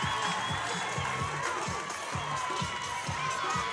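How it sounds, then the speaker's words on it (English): Milton fans at a Division 1 state final baseball game against Kenosha Bradford roar and cheer as a steady, dense crowd wash, with rhythmic low thumps running beneath the noise throughout. "the Milton crowd is all sorts of fired up"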